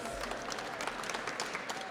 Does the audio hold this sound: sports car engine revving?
no